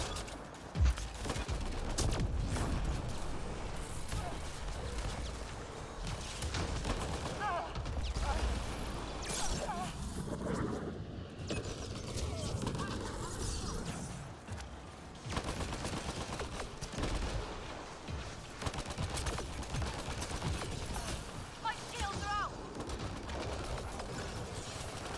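Dense, sustained gunfire from the video game Mass Effect Andromeda fills the whole stretch, with rapid volleys and impacts rattling on continuously and loudly, with only brief lulls.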